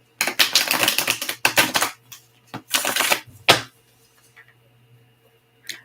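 A deck of tarot cards being shuffled up close, giving dense crackling riffle bursts in several quick clusters over about four seconds, then near-silence broken by a few faint taps and one short final flick.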